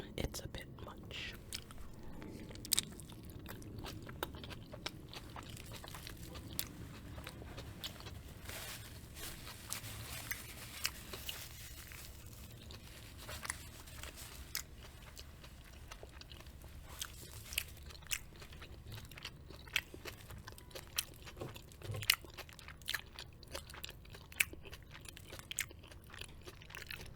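Close-mic ASMR chewing and biting on a Taco Bell burrito, soft wet crunches and mouth sounds repeating steadily over about half a minute, quiet and intimate with faint whispery breaths between bites.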